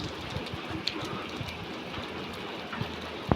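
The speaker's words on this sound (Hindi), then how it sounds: "बहुत सारी बारिश आ गई" Heavy rain pours steadily and close by, a dense continuous wash with a few sharper drops or knocks near the end, and no voices.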